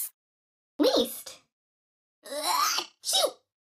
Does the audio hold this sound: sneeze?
yes